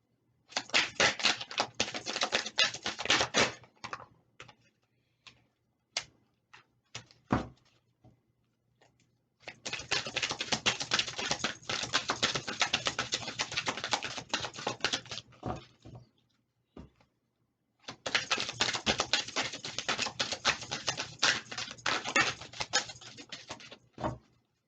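Tarot cards are shuffled in three long bursts of rapid crisp riffling, close and fairly quiet, separated by pauses with a few soft taps and card snaps.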